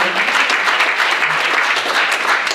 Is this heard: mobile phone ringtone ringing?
no